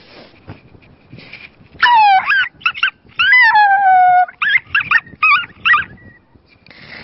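A person imitates a dog with loud, close, howling barks that rise and fall, in a string of drawn-out yowls followed by shorter yaps.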